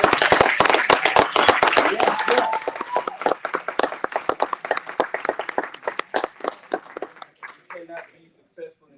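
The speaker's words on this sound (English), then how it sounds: "I think they deserve a well deserved round of applause" A crowd at the Ujima Day 3 evening program applauds its performers, dense clapping at first that thins into scattered individual claps and fades out near the end.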